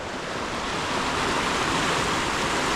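Small streams run near a lake, giving a steady, broad rush of flowing water that stays even and continuous throughout, with no voices.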